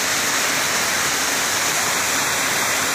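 Steady broadband rush of water flowing in the Guarruz ravine after rain, a continuous full wash with no breaks, loud and close, with no voices.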